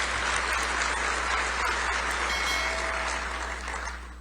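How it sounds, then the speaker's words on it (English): An audience applauds the acting ICE Deputy Director at a DHS event with Kristi Noem: a steady, dense wash of clapping that holds evenly and begins to thin near the end. "Give Madison a round of applause"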